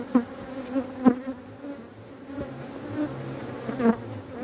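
Honey bees buzzing at an open hive early in the season, a close, dense droning hum with individual bees whining past in brief swells.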